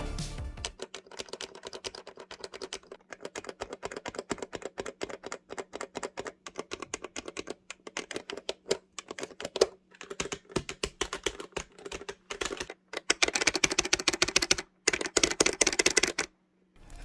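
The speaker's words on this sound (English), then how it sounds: "so this is what the buttons sound like" Buttons on a FightBox arcade controller with a metal and acrylic case are pressed in quick, uneven bursts of crisp clicks, close up and fairly quiet, growing denser and louder toward the end.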